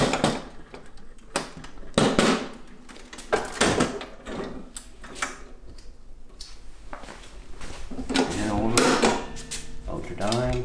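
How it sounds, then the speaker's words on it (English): On a Vendo V-44 vending machine, the metal door swings shut. Solid clunks and rattling latch clicks follow, several sharp knocks in close succession, near and fairly loud, with bottle-rack clinks around them. "So now we'll go ahead and close the door."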